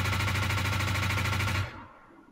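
Rapid automatic bursts from an assault rifle in the space game Star Citizen, a loud fast rattling stream of shots that cuts off abruptly and then falls silent.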